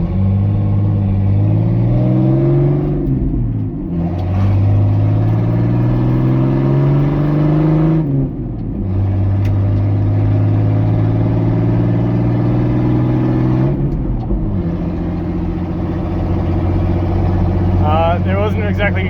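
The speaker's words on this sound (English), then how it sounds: "I'm in the Jeep and did a little bit of exhaust work." A Jeep engine with its exhaust removed runs loud and close, repeatedly rising in pitch as it revs up through gears, with brief dips between pulls and a person speaking over it.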